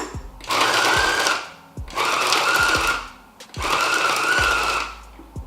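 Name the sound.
food processor pulsing batter with chocolate and pecans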